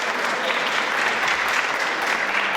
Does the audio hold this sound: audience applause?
yes